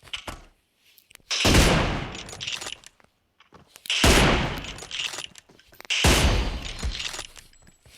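Gunfire from a shooting video game sounds in three loud, close bursts of rapid shots, each about a second or more long and separated by near-silent gaps with a few faint clicks.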